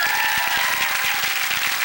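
A comedy warm-up show audience gives loud, dense, continuous applause that fills the room evenly with steady clapping and no speech.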